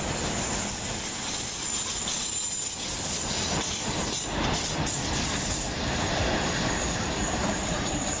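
A C2C passenger train rumbles past Shadwell station in London at close range, steady and loud throughout, with metallic wheel squeal and a faint rhythmic clatter over the rails.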